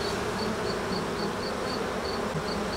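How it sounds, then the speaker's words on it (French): Honeybees swarm thickly around an opened hive with honey supers, a dense steady buzz filling the air with no pauses, close and constant. "là il y a des abeilles partout"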